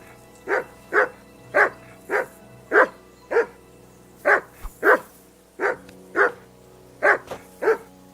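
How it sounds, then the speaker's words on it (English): A dog in the video game Kingdom Come Deliverance 2 barks about a dozen times in short, fairly regular bursts, close and clear against a quiet background, with a couple of quicker doubled yaps in the middle. "Whistle at that mutt of yours to stop barking."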